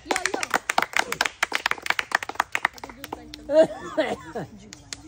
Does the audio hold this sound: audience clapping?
yes